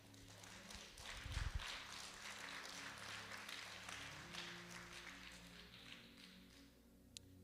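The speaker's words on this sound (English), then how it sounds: "It's strange that you would clap for that." Church audience at a Sunday celebration service clapping, a soft diffuse patter of many hands heard from a distance, with no voices over it.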